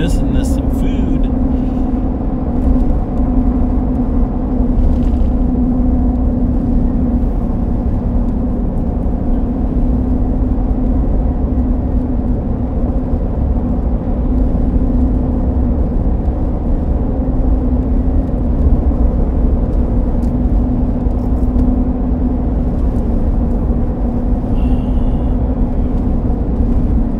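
Road traffic rolls past in a continuous low drone during a storm chasing outing, with engines humming steadily throughout and a person talking over the noise.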